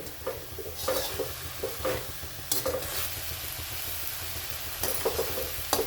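Dill greens (shepu) and tomato being stir-fried in a pan, a steady sizzle broken by repeated scraping strokes of a spatula stirring the vegetables, close and distinct with no talking.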